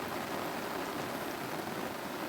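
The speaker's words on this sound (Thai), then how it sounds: "ตอนนี้ก็ฝนตกนี่" Steady rain falls outdoors at a rural home in Thailand, a continuous even hiss of drops on surfaces with no talking, moderately close and unbroken throughout.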